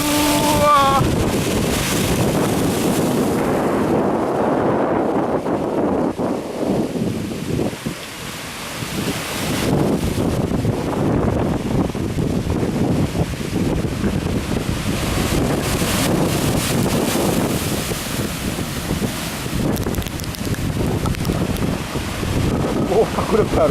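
Rough Sea of Japan surf after a typhoon, heavy waves crashing and rumbling continuously at close range, with strong wind buffeting the microphone throughout.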